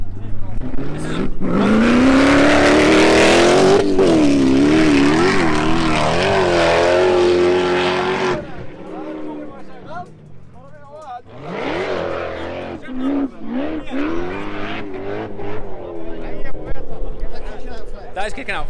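A 1500 bhp off-road super buggy roars as it drives downhill, its engine rising and falling in pitch with revving and acceleration. A voice talks over the loud engine in places.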